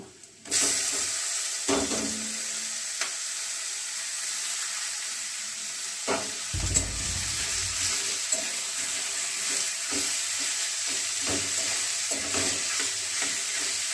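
Note greens sizzle with softened onions in a pan, a steady close frying hiss running throughout, broken by a few stirring scrapes and a brief low thump partway.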